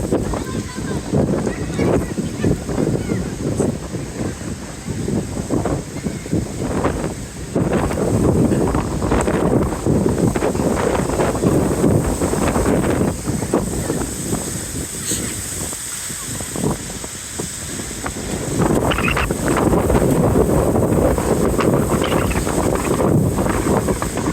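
Wind buffets the microphone outdoors at an under-12 regional youth football match, a continuous low rumbling roar with surging gusts throughout, and voices faintly beneath it.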